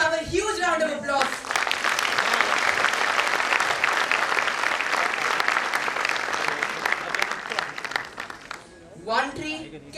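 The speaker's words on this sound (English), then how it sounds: "Can we have a huge round of applause?" A large audience breaks into loud, sustained applause that fills most of the stretch, framed by a speaking voice at the start and again at the end.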